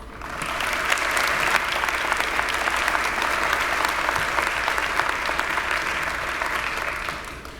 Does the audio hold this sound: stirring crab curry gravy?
no